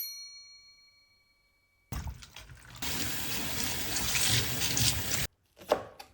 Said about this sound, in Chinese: 我们把木兰花洗一洗。